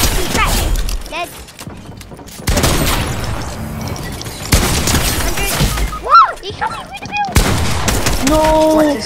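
Gunfire and impact booms in a Fortnite zone wars match, scattered shots and crashes over several seconds with players talking excitedly throughout and game effect sounds mixed in.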